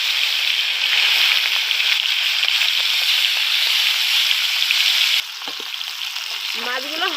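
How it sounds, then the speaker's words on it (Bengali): Hilsa fish pieces frying lightly in oil, a steady close sizzle that crackles evenly, then drops slightly quieter near the end with a few faint clinks. "মাছগুলো আমি হালকা করে ভেজে নেব।"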